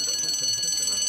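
A steady high-pitched electronic alarm rings continuously, with faint background noise beneath it.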